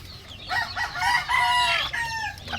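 A gamefowl rooster crows nearby in a flock of young game chickens, one clear drawn-out call over faint farmyard background noise.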